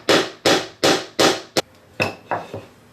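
A hammer drives a wooden half moon marking gauge part into place in traditional Chinese woodworking. About seven loud, close, ringing blows land at a steady beat, the last few lighter and uneven, with no talking.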